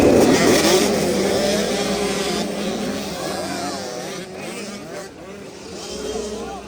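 Off-road race vehicles firing up at a dead engine start during round 4 of the 2025 NYOA Monkey Run: loud, close engines revving and overlapping with rising and falling pitch, gradually easing as they pull away.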